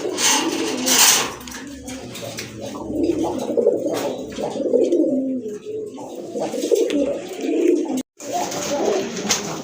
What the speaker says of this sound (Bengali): খুব ভালো সাইজের কবুতর, ভালো কোয়ালিটির কবুতর।